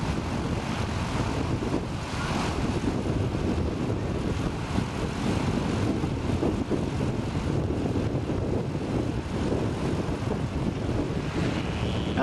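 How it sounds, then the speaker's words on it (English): A steady, broad roar of a Zenith 701 light aircraft's engine builds through the whole takeoff, mixed with heavy wind rumble, with no one speaking. "Let's see its takeoff performance in the Zenith 701."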